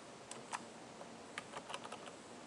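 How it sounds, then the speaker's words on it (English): Soft, scattered keystrokes tap on a computer keyboard while entering a terminal command, a quiet uneven patter of clicks with a steady hiss behind. "open up a new terminal window, type in SU"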